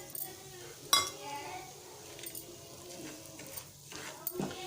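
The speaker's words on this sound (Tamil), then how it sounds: "இப்போது அதே பேனில் நம்ம கோதுமை ரவையை வறுத்துடலாம்" Broken wheat rava roasting in a pan for kesari, with metal spoon scrapes and a few sharp clinks against the pan, fairly faint and close.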